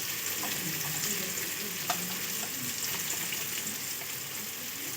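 Ground cumin sautéed in a pan for ghugni, a soft continuous sizzle with light scraping and stirring taps from a spoon, close and fairly quiet, no one speaking.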